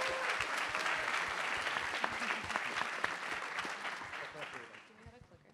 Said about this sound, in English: please join us in a big round of applause for our judges